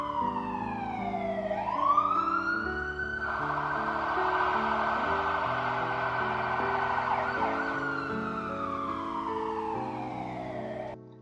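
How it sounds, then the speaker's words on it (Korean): A Korean 119 ambulance siren wails loudly and continuously, its pitch sweeping up and down in long cycles over a steady low background tone, with no voices. "119의 앰뷸런스 소리를 듣고 난 후에 어떤 마음이 생겼나요?"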